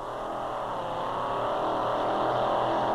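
A blown, fuel-injected GM engine of over 1,000 horsepower in a pulling tractor at a 1987 Winnipeg tractor pull roars steadily and loudly, its pitch climbing slightly as it revs, with no talking.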